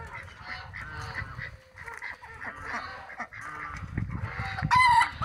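Chickens and hens in a farmyard, including a broody hen, clucking in repeated bursts with some honking fowl calls mixed in and a sharper cry near the end, fairly close and without talk.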